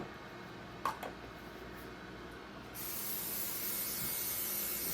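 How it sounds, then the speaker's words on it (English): Cooking spray hisses onto a greased baking pan used for homemade caramel candy: a faint click and short burst early on, then a long, steady spray that grows louder and continues to the end. "Spray your pan real good."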